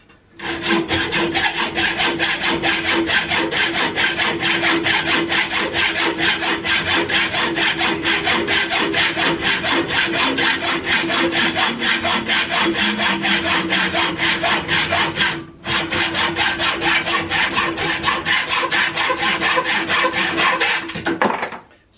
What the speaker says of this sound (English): you should always cut the excess threads off